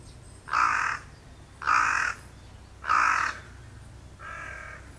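Four harsh, guttural caws from a carrion crow in rural Japan, evenly spaced and fairly close, the last one softer, over a faint low background hum.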